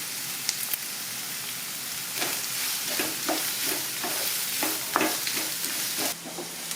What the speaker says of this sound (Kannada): ಈ ಉಳ್ಳಾಗಡ್ಡಿನ ಸ್ವಲ್ಪ ಕೆಂಪಾಗಂಗೆ ಫ್ರೈ ಮಾಡ್ಕೋಬೇಕಾಗ್ತದೆ